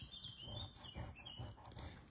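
Birds chirping and tweeting at a moderate distance, a series of thin, high calls repeating over a soft, steady background.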